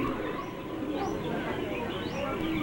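Pigeons coo at an Indonesian bird market, where prize birds are kept and trained. Three rising coos repeat at a steady pace over a dense, murmuring market background.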